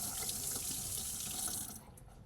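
A water tap is turned on and runs with a steady splashing hiss during a patient skills practice session, then drops to a quieter trickle near the end.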